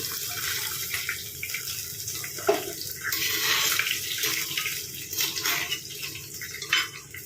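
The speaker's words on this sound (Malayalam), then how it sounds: "ഞാനൊരു കാൽ കപ്പ് വെള്ളം അങ്ങോട്ട് ഒഴിച്ചു കൊടുക്കുക" Water, about a quarter cup, splashes and runs into a metal pan of sardine curry in uneven bursts, a steady watery rush with faint clinks, close by and without talking.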